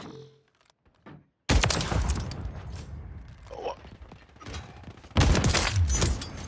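Rapid sniper-rifle shots and gunfire crack loudly from a Call of Duty MW3 match, a quiet start giving way to dense bursts with a heavy final volley, with brief voices mixed in.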